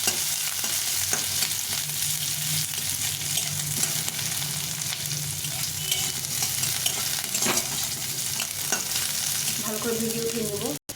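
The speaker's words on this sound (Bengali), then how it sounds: "এখন এর মধ্যে কিছুটা কালো জিরে দিয়ে দেবো, দিয়ে পেঁয়াজগুলো দিব, রসুনটা দেবো, দিয়ে একটু নেড়ে নিয়ে" Onions, garlic and black cumin fry in a pan, a constant loud sizzle with occasional scraping stirs, and no talking.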